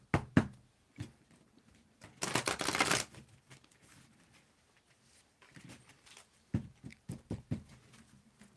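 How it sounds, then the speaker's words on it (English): Tarot cards being shuffled by hand, a quiet close-up sequence of taps and knocks with one longer riffling burst in the middle, then scattered soft handling sounds. "Let's give it a good shuffle."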